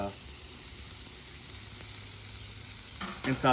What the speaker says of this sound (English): We're going to get this started on the flat top to get all that fat rendered out.